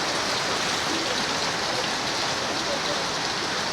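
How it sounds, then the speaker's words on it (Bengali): Heavy rain pours down on a rainy day at a home, a dense, even hiss of drops striking surfaces that stays loud and unbroken throughout. "এত বৃষ্টি শুরু হয়েছে।"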